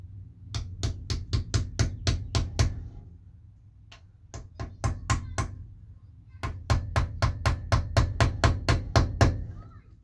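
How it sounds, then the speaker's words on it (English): A hammer strikes metal in rapid, steady bursts during installation of a manual transmission and floor-mount pedals, loud and close, with a short pause of sparser blows between runs. "patience and discretion with the hammer is the key here"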